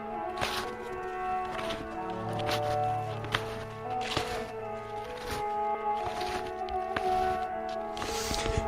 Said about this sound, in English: an open meadow that right now sounds like this